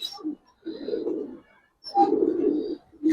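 Giribaz silver pigeons coo in low, throaty bursts, two longer rolling phrases with a short one at the start, close and fairly loud with a faint chirp in between.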